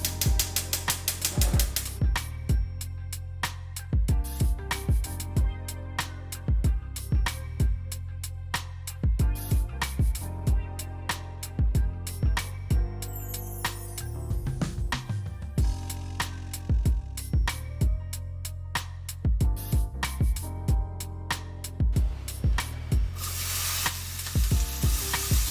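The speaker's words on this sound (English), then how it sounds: "I'm gonna cook our bacon while we're here" Bacon sizzles and crackles steadily in a frying pan during a brunch cook, with sharp clicks and scraping stirs punctuating the constant hiss; no talking.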